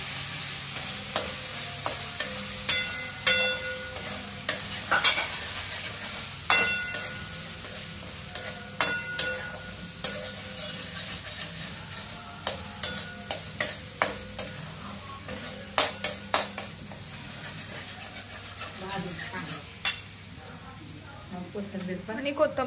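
A spoon stirs chicken gravy masala in a pan with a soft sizzle underneath, producing repeated close scraping clinks in uneven bursts while a voice talks at times.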